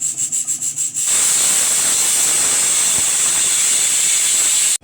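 A mixer grinder whirs loudly and steadily as it grinds neer dosa batter, starting with a few pulsed bursts before running continuously and then cutting off abruptly.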